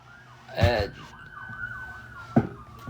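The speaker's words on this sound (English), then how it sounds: "Cops are going by. Sorry if you heard the sirens." Police sirens wail past on a city street, a rising and falling tone sweeping steadily across the whole stretch with two louder bursts of nearby noise over it.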